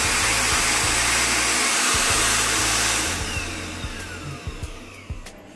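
A loud, steady whooshing motor roars close by, then drops off and winds down partway through, leaving faint clicks and rattles.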